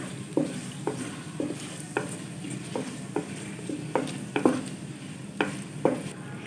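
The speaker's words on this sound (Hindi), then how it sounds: "हल्का सा फ्राई कर लेंगे सारी चीज़ों को" Whole spices, cloves, green cardamom, bay leaves and cumin, frying lightly in oil in a pan, a soft steady sizzle under repeated scraping strokes of a spoon stirring about once every half second, close and fairly quiet.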